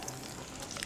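Chopped onion sizzles softly in oil in a pan, a faint, even crackle with no voices.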